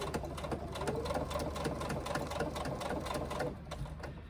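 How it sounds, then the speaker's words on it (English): A sewing machine runs steadily, stitching fabric for a Zanele sling, its needle rattling in fast even rhythm close up for about three and a half seconds before easing off. "Now I can continue sewing."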